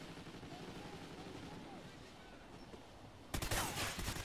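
Light machine gun fire in an online shooter game erupts suddenly near the end as a dense burst of rapid shots, breaking in over a steady ambient game background.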